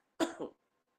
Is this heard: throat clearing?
yes